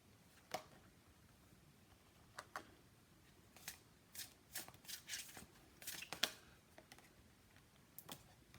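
Tarot cards are shuffled and drawn in a series of soft, close card snaps and riffles that come in short bursts, with pauses between them and no talk.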